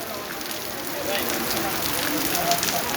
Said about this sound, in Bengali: এই মুহূর্তে আমাদের গাজীপুরে বৃষ্টি হচ্ছে